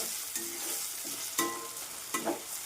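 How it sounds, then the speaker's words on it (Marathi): Basic ground spices (kitchen king masala, onion-garlic masala, turmeric, red chilli powder) frying in hot oil for a lentil and onion dish, with a steady close sizzle and a few scraping stirs of a spoon in the pan. "मसाला टाकून घेणार आहे आता किचन किंग मसाला कांदा लसूण मसाला हळद लाल तिखट ही छान फ्राय करणार आहे"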